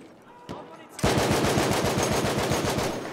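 A 1909 light machine gun rattles in a long, rapid sustained burst during a team deathmatch in Battlefield 1, loud and close after a brief quiet lead-in with a single thump.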